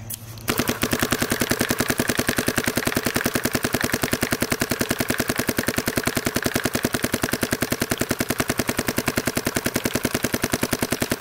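A paintball marker fitted with a Dye UL-I Boomstick barrel fires a long, rapid string of sharp, evenly spaced shots at close range, continuous for many seconds outdoors in damp weather, with no talking.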